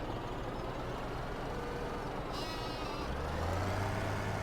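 A sheep bleats in the Farming Simulator 17 game within a Pacific Northwest farm setting, its cries sounding over a steady background rumble that resembles a vehicle engine, fairly quiet overall, with a low droning tone rising near the end.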